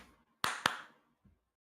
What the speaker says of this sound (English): If you clap more,